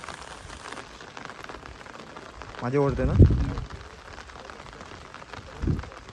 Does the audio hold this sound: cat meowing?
no